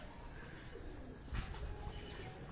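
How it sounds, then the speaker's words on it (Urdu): Pigeons kept in cages coo softly at an old rural compound, low murmuring calls faint and continuous against a dense background hum, with no voices. "ان کیجز میں جو کبوتر آپ کو نظر آ رہے ہیں"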